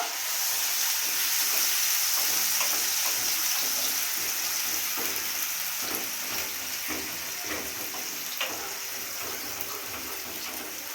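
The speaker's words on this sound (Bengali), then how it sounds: "একটু নাড়াচাড়া করে নেব।" Oily fish curry for Bengali tel koi sizzles steadily in a frying pan while it is stirred now and then, with a constant hiss and light scraping.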